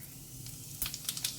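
Cumin seeds dropped into hot oil burst into a sharp crackling sizzle with popping bursts that start partway through after a quiet moment, close and moderately loud.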